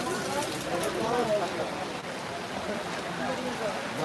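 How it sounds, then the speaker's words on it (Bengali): Heavy rain pours steadily at a village cattle market, a dense, close wash of drops drumming on surfaces with no pauses, while a voice talks faintly beneath it. "বৃষ্টি তো আরো বাড়লো।"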